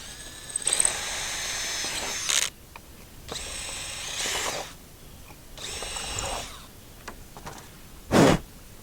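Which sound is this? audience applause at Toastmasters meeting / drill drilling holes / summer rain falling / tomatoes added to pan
drill drilling holes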